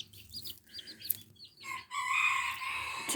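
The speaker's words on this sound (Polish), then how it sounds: "O, tu kolejny kogucik." A young rooster and several chickens cluck and chirp close by, first in short separate calls, then in a busier, louder burst of overlapping clucking.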